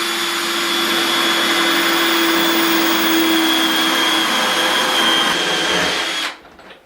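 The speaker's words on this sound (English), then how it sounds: "We're going to use our tile drill bit that we mentioned earlier." A drill with a tile bit bores into bathroom tile while a grab bar is installed, holding a loud, steady, high whine for about six seconds before it spins down and stops.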